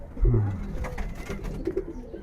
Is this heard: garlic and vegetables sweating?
no